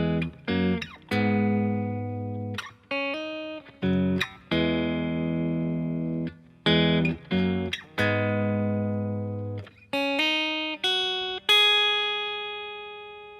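Guitar plays a riff, with single picked notes and short phrases that ring out and decay, clear and alone with brief gaps between them.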